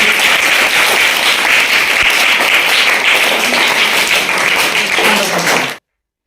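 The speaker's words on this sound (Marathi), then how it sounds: "बढिया खूप छान जरा जोरदार टाळ्या रजनी" Classroom clapping for a student who just did a number counting task on a bead string, steady dense applause from the whole class for about six seconds before stopping abruptly.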